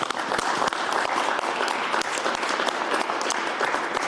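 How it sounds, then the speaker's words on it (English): An audience applauds veterans at a mayoral event, with dense, steady clapping from a crowd filling the whole stretch, loud and close, with no voices over it. "just a nice round of applause for our veterans who are here."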